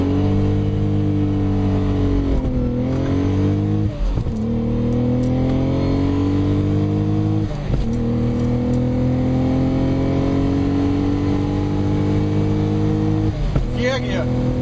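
A Lotus Omega accelerates hard through its gears, its engine rising in pitch and dropping at each upshift, loud and close from inside the car with occasional voices.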